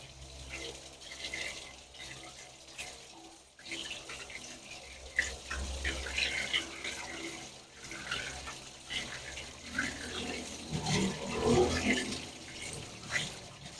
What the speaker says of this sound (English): So this is just water, no antifreeze,